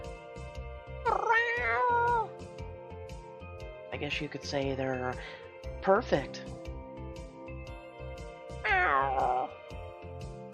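A cat meows in the mobile story game Choices: Stories You Play, near a calico kitten. Several drawn-out, rising and falling meows sound over soft background music, and a person speaks partway through.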